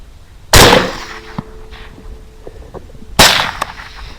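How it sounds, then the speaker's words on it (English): Two sharp, loud rifle shots ring out about two and a half seconds apart during a boar hunt, each a sudden close crack followed by a short decaying echo. "And now he's got to move around me in order to continue shooting"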